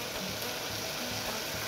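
Chopped kohlrabi (navalkol) dropped into a hot pan, giving a soft steady sizzle with faint stirring scrapes, brief and fairly quiet.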